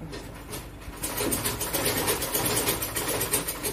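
A sewing machine runs close and loud, stitching zigzag stitches with a fast, even mechanical whir and rapid needle clatter that picks up after a short quieter start.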